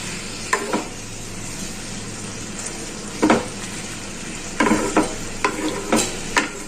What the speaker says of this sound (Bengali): এবার এই শাকটাকে ভালো করে নাড়িয়ে একটু নুন হলুদটা যাতে মিশে যায়